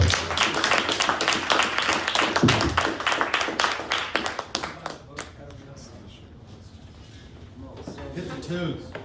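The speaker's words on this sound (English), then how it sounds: "Give yourselves a round of applause for coming out to support." An audience at a casual evening of poetry and music breaks into applause and cheering that fades after several seconds, with voices talking as a few scattered claps continue.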